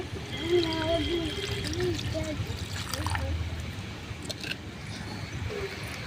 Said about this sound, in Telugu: వాటర్ అయితే పోసుకుందామండి దీంట్లో